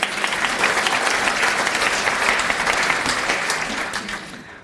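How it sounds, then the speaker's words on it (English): Steady audience applause at an arts festival talk in Nelson, dense and sustained clapping from a crowd that holds evenly before fading slightly at the end. "Let's give them all a round of applause."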